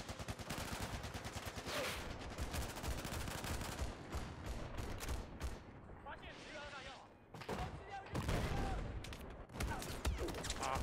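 Dense automatic gunfire and rapid bursts of shots pour in during a Battlefield 4 China Rising match, loud and close, with brief pauses between volleys and a player talking over the shooting.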